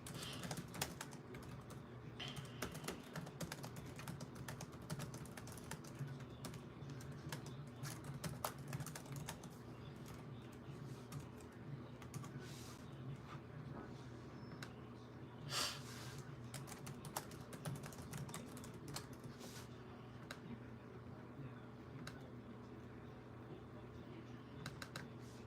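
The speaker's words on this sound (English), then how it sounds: "I'm typing the poll question now." Steady clicking of typing on a computer keyboard, irregular bursts of keystrokes continuing for the whole stretch over a low background hum.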